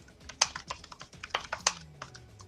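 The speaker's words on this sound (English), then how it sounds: "That's you typing." Rapid, uneven keystrokes on a computer keyboard, a quick burst of close, crisp clicks with a faint hum underneath and no talk.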